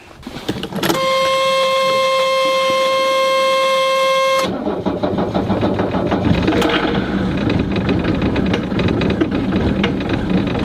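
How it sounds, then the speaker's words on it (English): A starter whines steadily for a few seconds, then a cold Mercedes-Benz W126 engine catches and settles into a loud, rough idle. "Let's start the engine."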